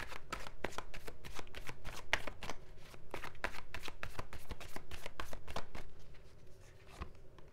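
Tarot cards being shuffled and drawn, a rapid run of crisp riffling flicks close by, repeating steadily for several seconds with no talk.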